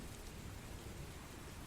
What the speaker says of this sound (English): The sound of the rain keeping you company.